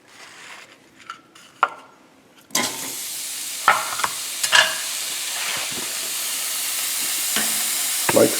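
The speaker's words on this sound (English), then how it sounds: "So I'm going to put this in the skillet." Sliced sausage drops into a skillet and starts frying, a few light clinks of handling giving way to a steady close sizzle with occasional stirring scrapes.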